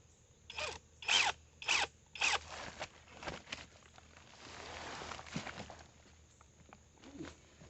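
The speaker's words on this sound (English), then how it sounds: "Get this tightened. Make sure that tool's turning the right way." Battery-powered ratchet driving a socket on a bolt head, four loud whirring bursts in quick succession followed by softer clicks and handling noise, with no talking.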